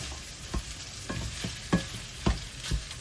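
Sausage for stuffed mushrooms cooks in a pan, a low steady sizzle broken by several sharp scraping stirs at uneven intervals, close and fairly quiet with no talking.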